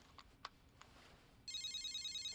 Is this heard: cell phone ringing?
yes